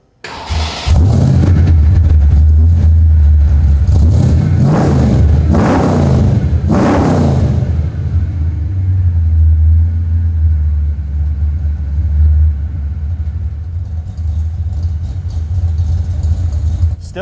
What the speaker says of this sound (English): Our MagnaFlow turndowns fit great, were easy to install, but now let's hear how they sound.